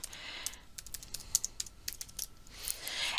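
Quick, light tapping on a computer keyboard, a continuous patter of soft clicks at close range with no talk.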